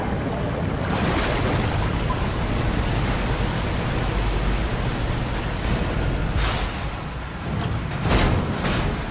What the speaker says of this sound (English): we've got to drain the water